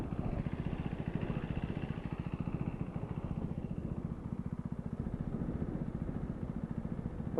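Motorcycle engine left idling on a ride around the Bataan Loop, a steady, close, throbbing low rumble with fast regular pulses continuing unbroken throughout.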